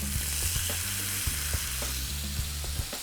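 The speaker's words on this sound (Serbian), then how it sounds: "ovi komadi krmenadli, tako da oni će pustiti neku svoju masnoću i ostavljam da se griluje" Close, constant hissing of pork chops searing on maximum heat in a lightly oiled pan, with occasional sharp clicks from a utensil and a faint low electrical hum underneath.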